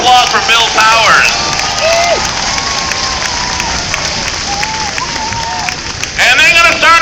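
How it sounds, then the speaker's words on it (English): A crowd in the grandstand at a state fair demolition derby applauds and cheers loudly for a driver, with whistles and shouts rising through the sustained clapping and babble. "How about a big round of applause for Bill Towers?"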